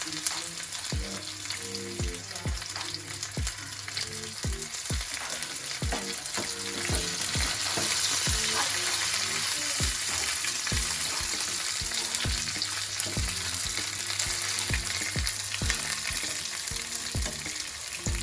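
Curry leaves crackle and sizzle steadily in hot oil for a tempering while a chicken dish with cumin is being made, with a regular pattern of sharp pops and periodic stirring scrapes throughout.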